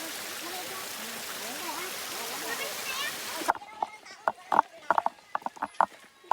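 Rushing water fills the first half, then horse hooves clip-clop in an irregular rhythm close by on a hard mountain surface.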